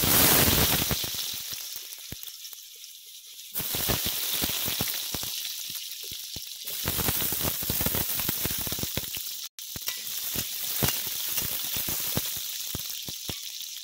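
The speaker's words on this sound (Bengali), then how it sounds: "এই তেলের মধ্যে কেটে রাখা আলুগুলো ভেজে নেব।" Cut potatoes frying in white oil in a wok, giving a loud, continuous close sizzle with crackling bursts that surge and settle, with a brief dropout partway through.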